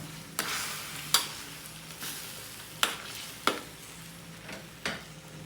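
A spoon scrapes and knocks against a pot of chicken sinigang soup about six times at an uneven pace over a soft, steady bubbling boil.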